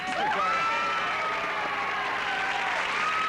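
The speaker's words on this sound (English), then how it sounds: "Usually causes all that applause" Television studio audience applauding at a late-night talk show, a dense, steady wash of clapping with some cheering mixed in, loud and sustained throughout.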